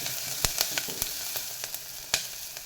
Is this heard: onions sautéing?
yes